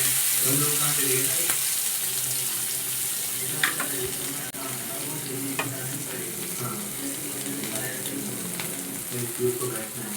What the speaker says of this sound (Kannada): ಸ್ವಲ್ಪ ಎಣ್ಣೆ ಬಿಸಿಯಾಗಿ ಆಮೇಲೆ ಫಿಶ್ ಬಿಡಬೇಕು ಬಿಡ್ತಾ ಇದ್ದಾರೆ ನೋಡಿ ಬಿಡ್ತಾ ಇದ್ದೀನಿ